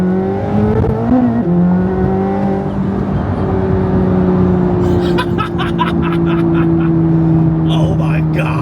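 A Chevrolet Corvette ZR1 pulls hard at half throttle, its engine note rising in pitch as it accelerates, then steadying into a loud sustained drone with wind and road noise close by.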